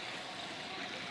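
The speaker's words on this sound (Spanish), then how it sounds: "Hay unas pequeñitas cascadas aquí bajando." Small waterfalls and flowing water on an outdoor walk, a steady, soft broadband rush of trickling water with no other sounds.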